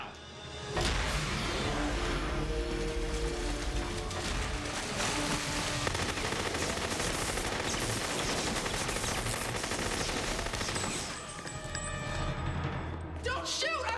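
Gunfire in a science-fiction action film fills the scene as a dense, continuous burst of rapid shots under music and effects, loud and sustained for most of the stretch before easing near the end.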